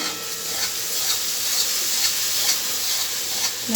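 Spice paste for a vegetarian potato curry sizzles steadily in hot oil, a close, continuous hissing fry with faint rhythmic scraping strokes as it is stirred in the pan.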